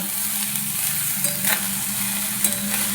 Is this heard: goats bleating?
no